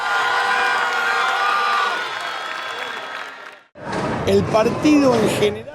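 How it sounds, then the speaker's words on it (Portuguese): Football fans in Buenos Aires erupting in a loud crowd roar of cheers and shouts, then a brief break before a second burst of whooping and yelling, with voices mixed in. "na capital argentina, Buenos Aires, a torcida foi à loucura"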